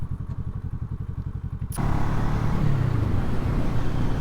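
A 2007 Kawasaki ER6N motorcycle's starter cranks in a quick rhythmic chatter for under two seconds before the engine catches and settles into a steady, close idle.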